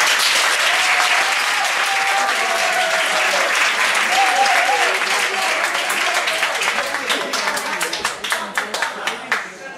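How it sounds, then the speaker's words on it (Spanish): A school audience claps loudly for a student group's presentation on Malala, a dense, sustained applause that thins toward the end into scattered individual claps, with a few voices heard faintly beneath. "Un fuerte aplauso."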